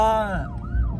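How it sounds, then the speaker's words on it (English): Siren wailing during the SEMA Ignited car parade, a brief loud falling-and-rising tone close by, with low crowd and engine rumble underneath. "You and your sirens, man."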